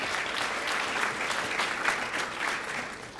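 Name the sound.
audience applause at a summit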